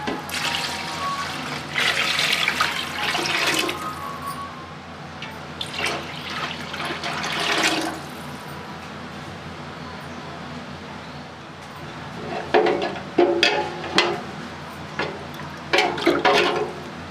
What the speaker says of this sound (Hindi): चावलों से डबल पानी डालेंगे।